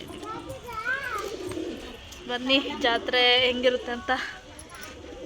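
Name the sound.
pigeon cooing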